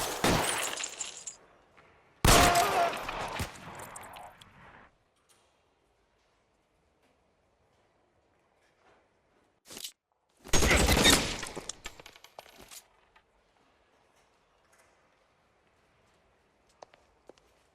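Gunfire in the L.A. Noire video game comes as two loud bursts of rapid shots with debris-like crackle trailing off, a quiet stretch, a lone crack, then another heavy volley fading to near silence.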